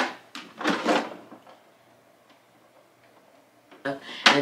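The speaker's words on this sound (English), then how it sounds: "it comes with the little drawer that you could pull out" A small drawer of a storage box slides out with a few short scraping, clattering strokes, followed by quiet handling noises and a sharp final click.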